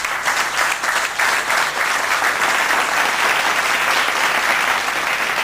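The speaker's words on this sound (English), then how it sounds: "give him a thunderous round of applause" Applause fills an innovation awards ceremony as the audience gives a winner a round of clapping, a steady, dense patter of many hands at moderate loudness, continuous throughout with no speech over it.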